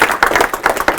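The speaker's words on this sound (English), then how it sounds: "Let's give them a big round of applause, both of them." An audience applauds at a talk on clinical care standards, a brief burst of dense, close clapping.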